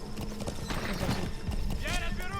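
Horse hooves clip-clop steadily in Metal Gear Solid V: The Phantom Pain, with a whinny near the end and a voice talking over them.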